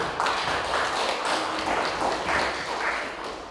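Steady applause from a seated audience welcoming a guest lecturer at a staff lecture event, a moderate, even patter of many hands clapping at middle distance.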